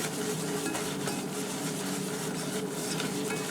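A flour and butter roux, made with Kerrygold butter, is stirred slowly back and forth in a pan, giving a continuous soft scraping and faint sizzle at an even level throughout.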